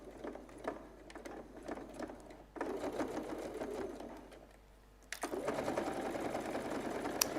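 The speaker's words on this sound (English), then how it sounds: "take that part of the sewing machine off so I can turn everything around" A sewing machine stitches the lining of a tea cosy in bursts of rapid mechanical whirring, with short pauses and handling noise between runs.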